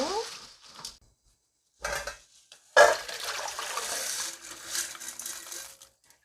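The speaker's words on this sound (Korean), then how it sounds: "국물에 한번 헹궈주세요." Red beans are rinsed in cold water for Korean steamed rice cake, with bursts of swishing water and grainy rattling against the bowl broken by short silences.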